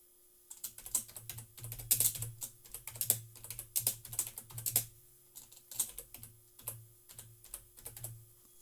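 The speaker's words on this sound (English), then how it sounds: "So just type in Flotsam Demo" Rapid typing on a computer keyboard while entering a WordPress online-store site title, with close, crisp keystrokes in quick bursts separated by short pauses and no talking.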